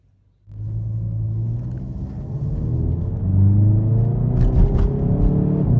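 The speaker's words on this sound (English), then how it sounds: "Anna, the suspension is really bumpy, but the exhaust note, man, I can't get over it" Deep, loud exhaust rumble from a hot hatch, either a VW Golf GTI or a Hyundai i30N, starts abruptly and builds steadily as the engine revs and accelerates, heard alone and close up.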